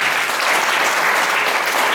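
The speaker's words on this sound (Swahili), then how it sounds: "Mpe Yesu makofi" A church congregation claps at a Pentecostal service, producing loud, dense, sustained applause that fills the room throughout.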